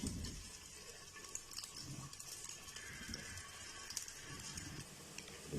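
Onions for a dhaba-style chana dal fry sizzle softly in a pan, a faint steady crackle with scattered light pops, no voices over it.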